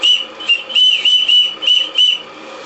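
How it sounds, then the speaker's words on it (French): Shrill steam whistle on a live steam model boat built from a Krick Alexandra kit, sounding in a series of short, repeated toots close by, with no voices. "Voilà, sifflet."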